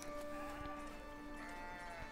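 A sheep in the Foundation city-building game gives a short bleat with a tonal, wavering quality, set over quiet background music and faint ambience.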